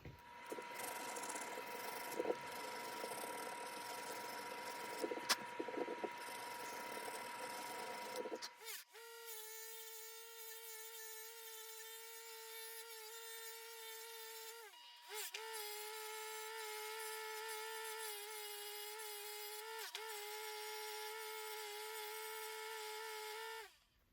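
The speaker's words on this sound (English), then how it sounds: "for the stabilized wood, I take it really high and buff it and get really good results" A stabilized wood knife handle is pressed against a running buffer, giving a steady loud whining hum with a rough rubbing layer at first, then a cleaner tone that briefly dips and resumes.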